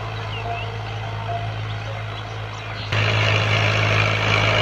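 A tractor engine drones steadily while pulling a Ghazi disk harrow through a field, a constant low rumble that grows louder and rougher partway through as the load increases.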